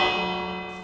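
A Minecraft bell block rings once with a clear metallic tone that sustains and slowly decays, heard alone and close.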